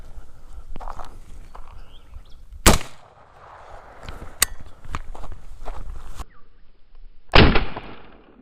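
A rifle shot fired at a wild hog at night using a Sightmark Photon night vision scope, heard as a sharp loud crack standing out against quiet footsteps and rustling, with a second sharp report following later.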